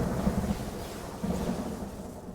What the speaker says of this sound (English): Squeeze grip, aim and release to summon thunderstorm.